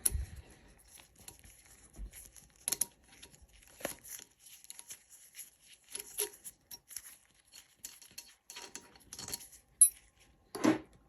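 Screws are worked loose bit by bit on a Kafatek Monolith Max coffee grinder during burr removal, giving faint scattered metallic ticks, clicks and small clinks with quiet gaps, close and soft.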